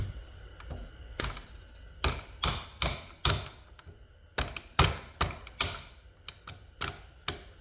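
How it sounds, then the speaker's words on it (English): A mallet lightly taps a 1/2-inch ratchet extension to drive it through a piston while a Polaris 350L engine is taken apart, producing about fifteen crisp metallic knocks in loose bursts, close and fairly sharp. "see if I can just lightly mallet it on through here"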